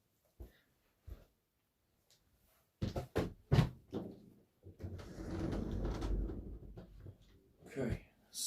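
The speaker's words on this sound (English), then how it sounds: "I will open the door so so the fly may get out of the room." A room door is opened indoors: a few sharp clicks and knocks, then a stretch of steady rushing and rattling noise before a final pair of knocks, all fairly close.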